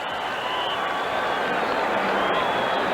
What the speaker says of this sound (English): brings mild applause from an unenthusiastic Buddy Ryan